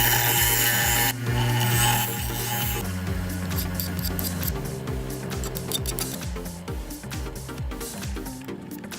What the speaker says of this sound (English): The excess length of the screw is ground off, and edges are chamfered